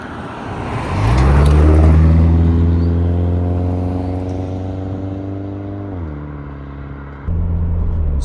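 A Toyota GT86 on 19-inch wheels with 265 tyres drives on the road, its engine revving up and then holding a steady hum, with gear changes stepping the pitch down and loud road and tyre noise throughout.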